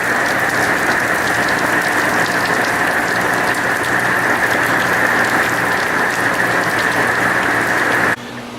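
Heavy rain pouring down steadily during Hurricane Irma, a dense continuous hiss close by, loud and unbroken until it cuts off near the end.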